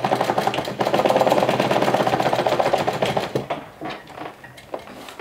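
A sewing machine stitches a bag lining in a loud, rapid run of needle strokes for about three seconds, then slows to a few separate stitches near at hand.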